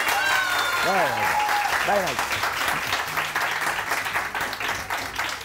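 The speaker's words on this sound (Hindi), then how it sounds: "अपने लिए तालियां बजाएं जोर से" Studio audience on a Samaa TV morning show applauds loudly and continuously, a dense wash of clapping with a voice speaking over it.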